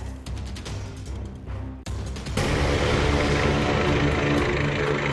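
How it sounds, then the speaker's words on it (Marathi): Helicopter setting down in a vehicle parking lot in place of a helipad in Khanwadi, near Pune: a loud, close rotor drone that jumps abruptly to a heavier, fuller roar partway through and holds steady, with no voices. "भुजबळांचं हेलिकॉप्टर हेलिपॅडऐवजी वाहनांच्या पार्किंगमध्ये उतरलं।"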